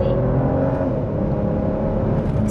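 Volvo V60 T6 Polestar with a 3.0-litre turbocharged straight-six pulls hard from a standstill to 100 km/h, a loud, steady engine roar with rising harmonics filling the cabin, no talk over it.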